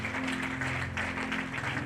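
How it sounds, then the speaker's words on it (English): Audience applause at a mentorship school convocation, a short burst of continuous clapping at moderate volume filling the whole moment without voices. "Can we give a round of applause once again, please?"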